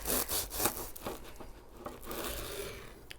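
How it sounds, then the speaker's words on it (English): A knife saws through the crusty grilled bread of a grilled cheese sandwich, giving faint, close crunchy scraping strokes in a quick irregular rhythm, with brief crackles, and no talking. "Hear that crust on that bread?"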